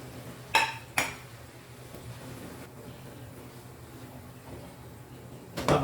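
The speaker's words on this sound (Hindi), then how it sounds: "अब हम इसमें भिंडी डालेंगे जो हमने फ्राई की हुई है।" Fried okra tipped into masala in a pan and stirred, a couple of sharp metal clanks of utensil on the pan near the start, quiet hiss between, then more clattering at the end.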